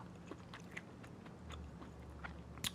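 Crunchy maitake mushrooms are bitten and chewed close up, giving faint crisp crunches and soft wet mastication sounds in an irregular rhythm, quiet and alone.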